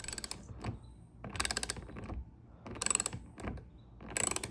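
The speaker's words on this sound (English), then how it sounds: "Now we'll secure it with the top thumb screw." A thumb screw being tightened on a mud flap fitted to a Tesla Model Y, heard as soft, close ratcheting clicks and creaks in four short bursts, quiet and with no talk.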